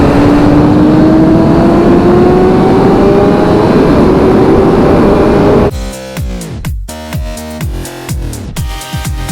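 A motorcycle revs up for a short highway burst on a cold 30-degree first ride of 2024, a steady roar climbing in pitch for several seconds before abruptly giving way to a different, choppier sound.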